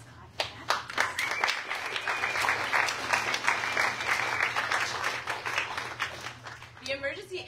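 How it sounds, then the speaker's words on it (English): An audience at a live theatre show claps loudly and steadily for several seconds, dense applause filling the room before it thins out near the end. "Let's clap for that."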